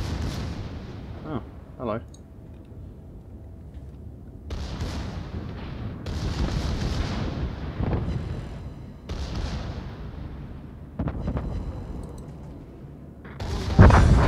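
The main battery guns of the Japanese battleship IJN Mutsu in a naval video game, several heavy booming salvos spaced a few seconds apart with long rumbling decays, someone speaking briefly between them.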